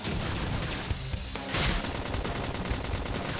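Rapid gunfire from a Xenoblade Chronicles X battle, dense bursts of shots rattling almost without pause, loud and close, with a brief lull near the start before the barrage resumes.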